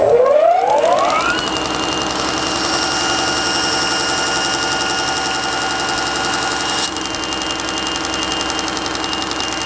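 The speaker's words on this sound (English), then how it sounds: "So let's head over to the grinder." A bench grinder cleans up knife bevels, its motor spinning up with a rising whine and then holding a steady high-pitched hum, loud and close, with a brief shift in tone partway through.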